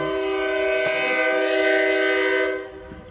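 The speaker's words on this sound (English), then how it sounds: "It is a long train, it's not an Amtrak." A long freight train passes on a rainy day and sounds a loud, sustained horn blast close by. The horn holds steady for about two and a half seconds, then drops off into the train's rumble.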